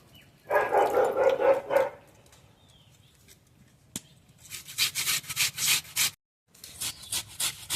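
Potatoes rubbed against a kitchen grater for crispy potato and onion pakoras make rhythmic scraping strokes, close and fairly loud, in one burst, then a pause, then a longer run of quick strokes.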